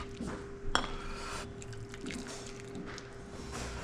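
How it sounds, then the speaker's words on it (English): Chicken soup broth made with rotisserie chicken simmers gently in a pot, giving soft wet bubbling and occasional drips and splashes under a faint steady hum, with one sharper clink near the start. "Bring it to a gentle simmer."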